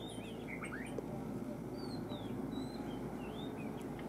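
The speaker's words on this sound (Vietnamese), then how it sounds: "Con này là chòe than trâu anh em nhé." Oriental magpie-robin, the largest of the magpie-robin types, calling outdoors in northwest Vietnam's hills: scattered short whistled chirps and slurred notes, moderately distant, over a steady hum of insects and background noise.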